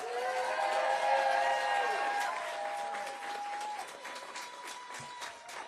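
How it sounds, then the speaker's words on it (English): A crowd applauds Senator Tammy Baldwin at her victory speech, steady sustained clapping with faint cheering, while tonal music tones ring over it early on and then fade. "Let's give a giant round of applause for Senator Tammy Baldwin."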